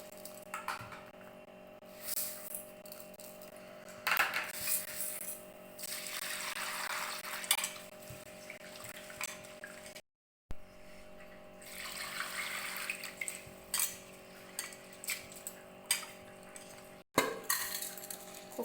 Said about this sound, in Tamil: அரிசி கழுவி எடுத்துக்கலாம்